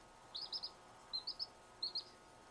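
Thin, high peeps from small chicks come in three quick bursts of two or three notes each, clear against a quiet, steady background hum.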